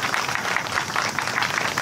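An event audience, apparently Frontale supporters, claps for a second time, a thick, even wash of many hands sustained at fairly close, loud level for the whole short stretch.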